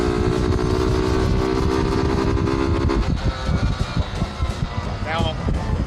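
A 1967 Honda CL90 motorcycle engine revs steadily while riding, a loud continuous drone with shifting pitch and wind noise throughout.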